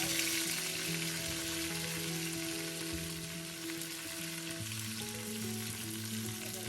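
Shallots, green chillies and curry leaves fry in hot oil with mustard seeds for a carrot ozhichu curry, making a steady, dense sizzle that stays even throughout and shifts slightly near the end, close up, with no speech.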